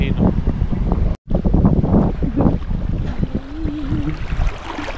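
Strong wind at Los Vaqueros lake during trout fishing buffets the microphone in loud, continuous rumbling gusts, with a voice talking over it and one brief dropout near the start.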